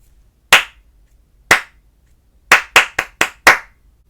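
Six crisp, close hand claps spell out a rhythm pattern in a fruit salad rhythm-reading lesson: two evenly spaced claps, then four quicker ones in a row, over silence.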